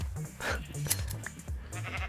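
Minecraft sheep bleat in a short run of quick, wavering game calls, close and clear, with a voice talking over them.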